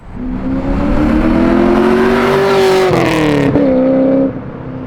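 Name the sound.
LS V8-swapped BMW E36 M3 engine revving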